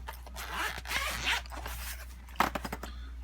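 Zippers on a pencil case are pulled open up close, giving several rasping, ratcheting strokes of varying length followed by a quick final burst of clicks.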